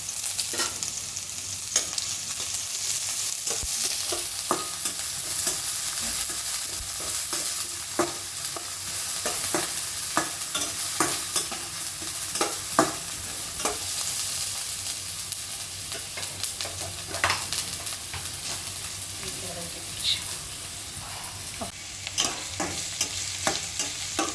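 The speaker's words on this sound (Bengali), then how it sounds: "এবার 4 টেবিল চামচ তেল গরম করে তাতে আধা কাপের মতো পেঁয়াজ কুচি ছেড়ে নাড়াচাড়া করে নিচ্ছি" Chopped onions fry in about four tablespoons of hot oil over medium heat, a continuous close sizzle with frequent sharp scrapes and clinks of a spatula stirring the pan, no voices heard.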